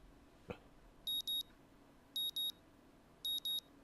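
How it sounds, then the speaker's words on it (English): A morning alarm in the Katawa Shoujo visual novel sounds in three evenly spaced bursts of paired electronic beeps, sharp and clear over a quiet background after a single soft thump. "My morning alarm goes off"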